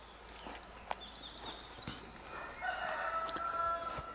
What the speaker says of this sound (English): Roosters are doing their thing down there at the barn.